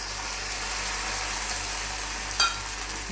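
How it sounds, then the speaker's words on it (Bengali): Egg and onion poured over chitoi pitha batter in a hot pan: a steady, soft sizzling hiss throughout, with a brief scrape or clink near the end and no talking. "তার উপরে এই পেঁয়াজ আর ডিমটা ঢেলে দিচ্ছি।"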